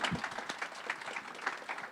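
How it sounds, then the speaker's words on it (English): Applause from a community engagement event audience after student presentations: a brief patter of light clapping from a modest crowd, uneven and moderately soft, with no talk over it. "I think we need another round of applause"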